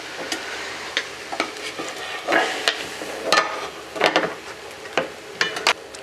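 A pescajoune, a thick pancake, frying in a pan after being flipped, with a continuous loud sizzle and repeated scraping and tapping against the pan throughout, close and without speech.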